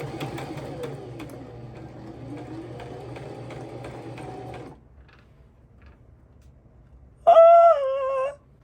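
A sewing machine driven by a foot pedal stitches in a steady, fast mechanical whir for about four and a half seconds, then stops. After a quiet pause, a brief, loud, high tonal sound follows.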